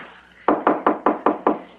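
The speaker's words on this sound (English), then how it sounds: "I don't see no bell button. So, knock." Six firm, evenly spaced knocks rap on a wooden house door, close and crisp, with no voices, a staged effect for a radio mystery drama.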